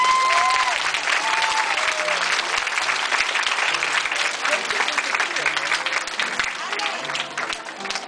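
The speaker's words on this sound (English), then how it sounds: "Please give them one more round of applause." An audience gives sustained, loud applause, dense clapping that fills the whole stretch and slowly tapers off toward the end.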